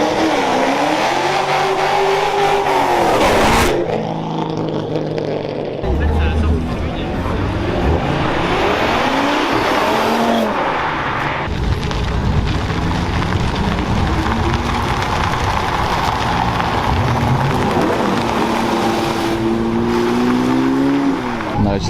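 Lamborghinis and other supercars, including a Liberty Walk GT-R, accelerating hard out of an exit at a gentleman driver day, with loud engines rising and falling in pitch and passing close by, mixed with crowd chatter.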